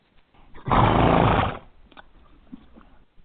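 A horse gives one loud, close neigh of under a second, breathy and raspy, followed by faint rustling and quiet background noise.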